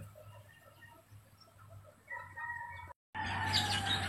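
Native Philippine chickens cluck and crow in short bursts, with one louder crow rising near the end after a brief gap, over a low steady hum.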